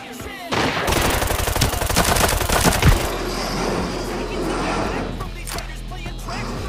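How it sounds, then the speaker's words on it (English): Rapid automatic gunfire in the shooter game Arena Breakout, a loud close burst of fast rhythmic shots lasting a few seconds, then quieter distant crackling shots with a person talking over it. "Who is shooting me?"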